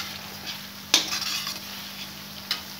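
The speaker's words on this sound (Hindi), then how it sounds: "मसाले को हम धीमी आंच पर पकाएंगे ताकि मसाला हमारा जले नहीं, इसको लगातार चलाते रहें।" Spiced masala being stirred in a frying pan over low heat, oil separating at the edges, with a soft continuous sizzle and a couple of sharper spoon scrapes against the pan, close and without talk.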